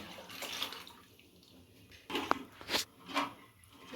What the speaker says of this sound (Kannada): ನೀರು ಹಾಕ್ಕೊತಾ ಇದ್ದೀನಿ.